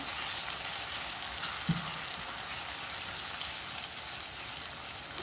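Spiced curd masala is stirred into paneer bhurji in a pan, giving a steady, close sizzle with a few soft scraping stirs and one brief knock, no voices.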